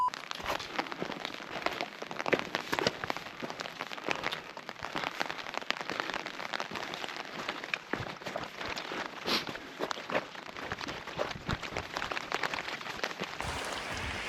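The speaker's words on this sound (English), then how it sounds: "Doing Mission Creek in a rainstorm." Steady rain patters densely on a wet, rocky hiking trail along Mission Creek during a rainstorm, a continuous close hiss with scattered drops and possible footsteps, no voices.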